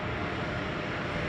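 An airliner from West Palm Beach rolls down a runway at Chicago O'Hare, a brief, continuous, fairly strong engine roar with no break.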